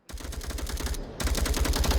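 Rapid bursts of automatic gunfire in a competitive esports shooter match, a dense run of sharp shots near and loud, with a short pause before firing resumes.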